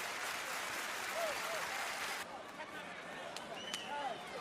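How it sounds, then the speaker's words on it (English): A wrestling arena crowd in Springfield, Massachusetts applauding and cheering, a dense roar of clapping that drops partway through, with voices over it. "Great crowd here in Springfield, Massachusetts"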